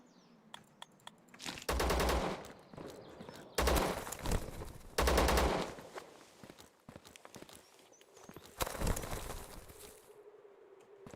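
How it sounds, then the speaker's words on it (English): Bursts of gunfire in a modded Valheim-style survival game, with several loud sustained volleys of rapid shots separated by quieter stretches of footsteps and small clicks. "don't know why I kept shooting, but I did."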